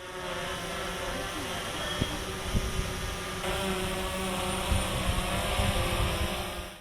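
A steady, close mechanical buzz with a droning whine holds for the whole stretch, like a small multi-rotor craft hovering nearby; a police traffic-control drone in Vijayawada city.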